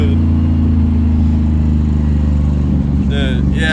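Chevrolet Camaro F-body engine droning loud and steady while driving on the street, a deep continuous rumble with people talking over it near the end.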